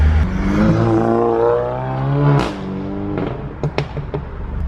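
Volkswagen GTI accelerates hard with turbo boost, engine note climbing steadily for about two seconds before a sharp turbo whoosh and shift, then fainter revving and clicks, loud and close with no talk over it.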